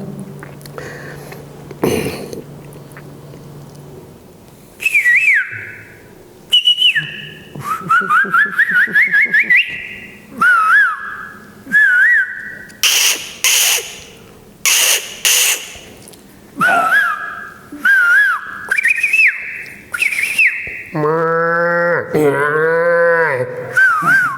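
A voice imitates village morning sounds, shrill whistled bird calls in bursts, rising warbles and a low mooing cattle call, loud and close, one imitation after another with short pauses.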